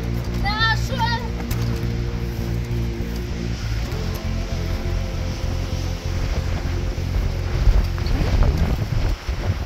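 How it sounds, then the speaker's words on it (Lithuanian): Strong wind buffets the microphone with a steady low roar on a bridge by the sea in Spain, joined by rushing noise like water or surf, and a few brief voices early on. "mane vėjas neša"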